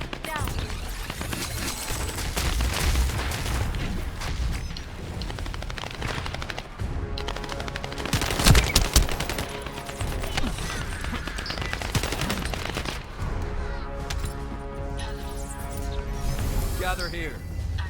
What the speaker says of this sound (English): Assault turret activated.